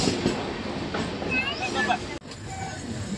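A Vijayawada–Narasapuram MEMU special train runs steadily on new track with fresh sleepers, giving a continuous loud rumble heard from on board with no clear voices, before a brief dip in the noise near the end.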